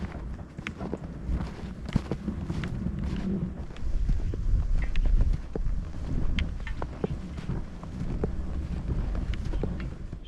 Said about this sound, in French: le vent il s'est levé pas mal